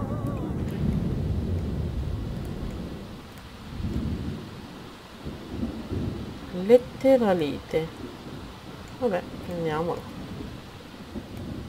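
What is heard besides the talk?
thunderstorm with lightning strike in The Sims 4 video game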